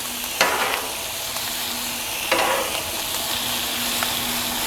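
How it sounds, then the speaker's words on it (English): Onions and peppers fry beside Italian sausages on a Blackstone griddle, giving a steady close sizzle with a couple of sharp scraping clatters from a spatula. "And I'll go ahead and add on the onions and the peppers."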